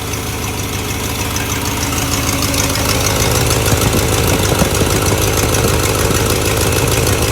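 A 1960 Cadillac Eldorado engine idles loudly and steadily up close after ignition timing, a constant rumbling drone with a faint rhythmic knock and no talking.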